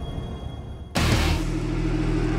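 A Porsche 911 using launch control leaves the line after a quiet idle moment, its engine bursting into a loud, sustained rumbling roar that holds steady and close to the end.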